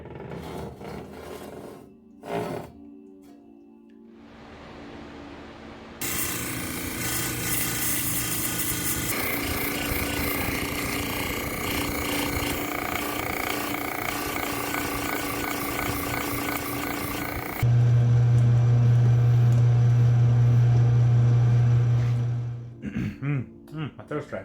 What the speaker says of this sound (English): We're gonna get this saw plugged in and turned on.